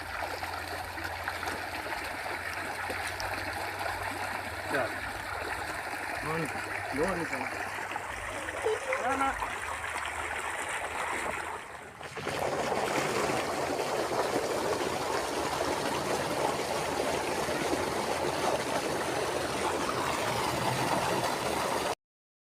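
Steady broadband rush of irrigation water flowing through a farm field channel fills the whole clip, growing fuller and louder partway through, with faint voices in the background early on.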